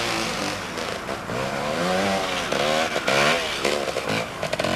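Trials motorcycle climbing a steep bank in a junior competition heat, engine revving and bogging in uneven bursts with rising and falling pitch, close and loud, ending in choppy blips.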